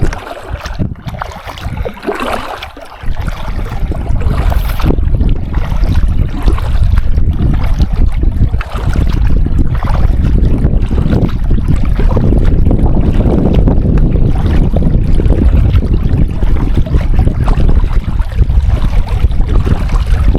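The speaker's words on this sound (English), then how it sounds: "It's just a little bit of wind, but I'm okay with that." Strong wind gusting across Shell Lake in Nebraska's Merriman Precinct, heard from a kayak on the water, loud blustery microphone rumble with lapping water, steady after a calmer opening.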